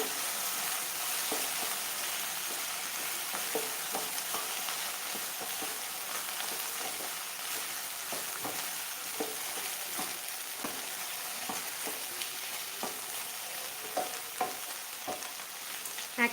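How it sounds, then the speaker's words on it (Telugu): Okra curry being stirred in a pan just after turmeric goes in, giving a steady soft sizzle with scattered scraping clicks from the spoon throughout, close and moderately loud, no voices. "పసుపు వేసుకొని బాగా మిక్స్ చేసుకోవాలి"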